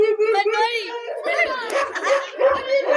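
A performer in a Ramlila comedy stage play imitates a dog with his voice, giving loud, close yelps, whimpers and barking sounds in a continuous burst of about three seconds.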